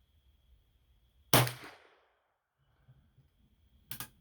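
A single sharp report from a .32 centerfire Remington rolling block rifle rings out loud and close with a short decaying tail, followed a few seconds later by a second, briefer sharp crack.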